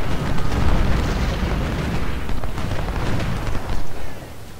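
Civil War cannon and artillery fire booms in the strategy game Ultimate General Civil War at the battle of Shiloh, a loud rumbling barrage of overlapping blasts without speech.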